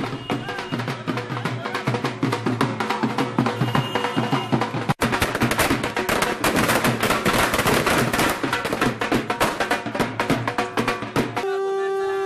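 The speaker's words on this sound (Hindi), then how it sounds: "लोगों ने शहरों में आतिशबाजी" Celebration fireworks and firecrackers crackle and pop in dense rapid bursts throughout the city, loud and continuous, with a voice talking over parts of it.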